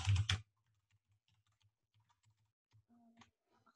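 Soft keystrokes tap on a computer keyboard in a quiet room, scattered light clicks over a few seconds following a short burst of voice at the start.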